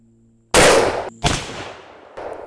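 A CVA Scout 45-90 rifle fires a 400 grain bullet outdoors: two loud, sharp shots about a second apart, each followed by a rolling echo that fades away.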